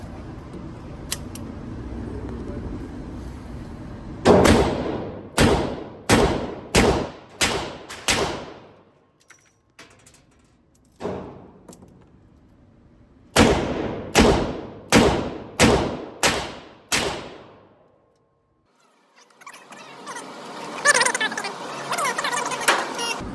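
A Smith & Wesson Model 19 revolver fires two rapid strings of loud, sharp shots, each crack followed by a short decaying ring. A single isolated shot falls between the strings, and quiet gaps separate them.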